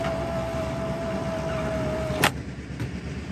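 Factory sunroof on a 1977 Chevy Monte Carlo motoring open: a steady electric motor whine runs for about two seconds under a broad hum, then stops with a sharp clunk, followed by a faint second click.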